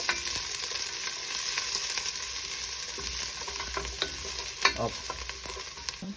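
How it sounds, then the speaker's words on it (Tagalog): Garlic sizzles and fries in a hot pan for a pork stir fry, with a constant bright crackle and occasional scraping stirs, close and moderately quiet, no voices. "mait ang kawali, ilagay na natin ang ating garlic"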